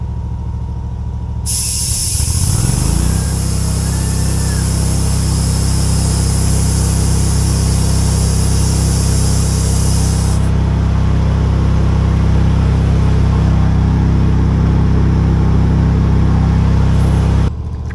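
A tractor tire being inflated to reseat its bead: a loud, steady rushing hiss of air holds for most of the clip over a continuous engine-like hum, with a bright high whine for the first half, no talk.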